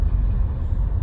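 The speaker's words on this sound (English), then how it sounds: "Okay, traffic jam." Steady road traffic in a jam, with a dense low rumble of cars and trucks idling and creeping along. The sound is continuous and fairly loud, with no voices.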